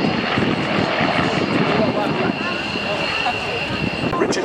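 A Cassutt Formula 1 air racing aeroplane flies at an airshow, its propeller engine giving a steady, loud drone throughout, with a commentator talking over it.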